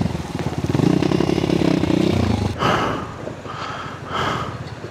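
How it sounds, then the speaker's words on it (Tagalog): A motorcycle revving as it rides through water on a Mount Pinatubo trail, loud throttle bursts and splashing up close, then quieter sputtering with breathy noises. "Takot yata sa tubig yung motor ko ah."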